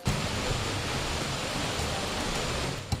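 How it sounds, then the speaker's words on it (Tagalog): Rushing water of the 90-foot Ulan-Ulan Falls on Biliran island roars in a steady, dense broadband hiss, heard alone without voices. "alam mong malapit ka na kapag narinig mo na ang lagaslas ng tubig."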